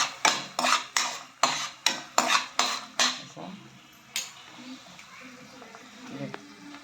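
A spoon stirs an onion and tomato mixture sautéing in a pan, giving about eight quick, rhythmic metal clanks, then a few scattered scrapes and taps nearby, with someone speaking over it.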